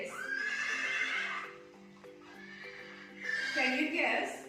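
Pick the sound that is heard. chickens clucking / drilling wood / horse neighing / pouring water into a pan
horse neighing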